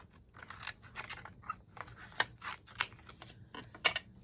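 Close, crisp paper snips from scissors cutting out paper cloud shapes for a card, a steady irregular run of short crunchy cuts with no talking.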